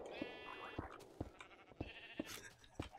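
Sheep in the Minecraft Tekkit modpack bleat repeatedly, about five short punchy calls spaced roughly half a second apart, close and clear over a faint game background.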